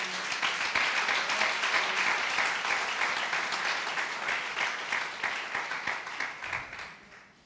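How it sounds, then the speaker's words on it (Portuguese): Congregation applause during a church service, dense sustained clapping filling the space and slowly thinning toward the end. "Dê uma salva de palmas ao Senhor."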